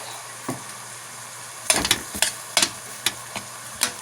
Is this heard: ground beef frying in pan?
yes